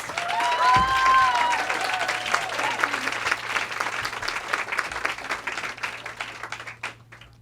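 A live audience at a bookstore author event applauds to welcome the guest speaker Margaux Bergen, with steady, full clapping that swells early and then tapers. A voice briefly speaks over the start.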